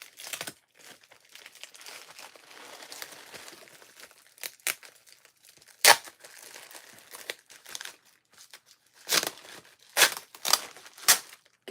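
Tape peels off a cardboard package in close, crinkly tearing bursts, scattered across a quiet stretch with several sharper rips toward the end.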